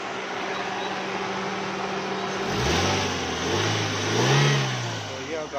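A Suzuki Swift car engine, recently converted to run on gas, idles and is then revved in a few rising surges. The engine is close and moderately loud, with steady background noise.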